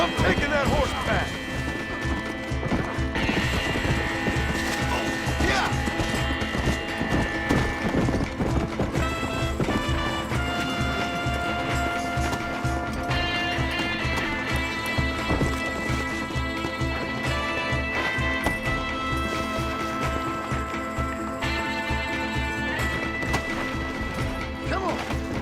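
Horse hooves pound in a steady galloping rhythm in the video game Red Dead Redemption, layered under a continuous music score with occasional crashes and game effects.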